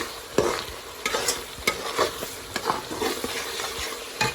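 Spice masala for beef tehari fries in mustard oil under a steady loud sizzle, with repeated scraping taps from stirring. No one talks.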